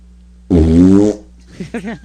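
A loud, drawn-out fart rumbles for about two-thirds of a second, followed by a few quieter burp-like and gurgling sounds, with no talk.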